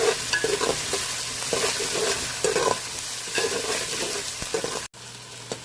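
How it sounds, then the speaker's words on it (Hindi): Ginger garlic paste frying with browned onions in a pan for a biryani, a loud continuous sizzle with repeated scraping stirs close up, cut by a sudden brief dropout near the end; no voices. "अदरक लहसुन को हमने 1 से 2 मिनट तक भून लिया"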